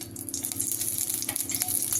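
Split urad dal frying in a spoonful of hot oil for a mint-tomato chutney, a steady soft sizzle with fine crackling that holds through the whole stretch without any voices.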